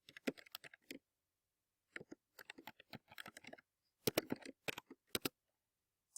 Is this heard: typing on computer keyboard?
yes